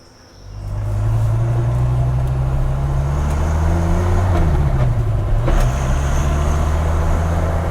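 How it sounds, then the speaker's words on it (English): A 1994 Dodge Viper RT/10 sports car pulling away and cruising, its deep V10 engine rising from idle into a strong, steady drone with the pitch briefly climbing and dipping as the driver works through the gears. "A little morning drive in my 94 Viper."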